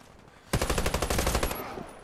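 An AM-17 fires in the online shooter Warface: a loud, rapid automatic burst of about a second, close up, then fading into quiet.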